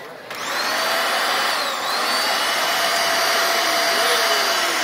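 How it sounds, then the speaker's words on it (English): Several Dyson vacuum cleaners are run together as a musical sound-art performance, giving a loud, continuous whooshing whine with sliding tonal pitches that bend and shift over a few seconds. No talk. "So she's playing the Dysons."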